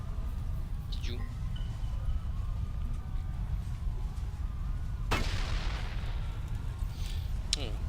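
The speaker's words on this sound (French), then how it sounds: "Oh, quel sacré bruit d'explosion." An explosion goes off in the video game Darkest of Days, set in Pompeii: a sharp loud burst cracks out midway with a broad rumbling tail, over steady game ambience and a player talking.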